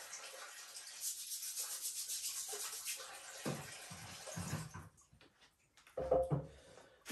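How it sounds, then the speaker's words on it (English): A carrot scrubbed by hand with a scrubbing brush at a kitchen sink: steady close rasping strokes with running water for about five seconds, then a pause and a brief louder splash and rub near the end. "I'm going to wash the carrot. Well, I'll give it a little bit of a scrub"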